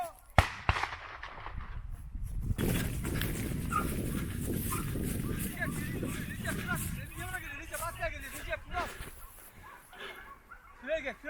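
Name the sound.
hunting dogs chasing boar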